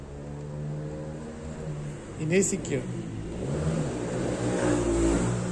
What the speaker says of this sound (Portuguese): Tem uma barulheira de carro ali que só.